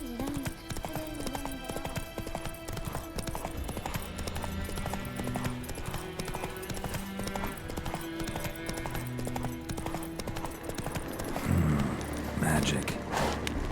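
Horse riding in The Witcher 3: Wild Hunt, with steady galloping hoofbeats running throughout under game music and ambience while a voice speaks over them.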